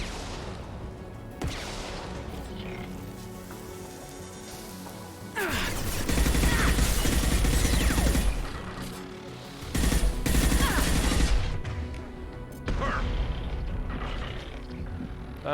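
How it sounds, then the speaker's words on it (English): Gunfire aimed at the player in Mass Effect Legendary Edition crackles in loud bursts of automatic shots, with heavy volleys around the middle and end separated by quieter stretches of lower-level shooting. "The hell is shooting at me?"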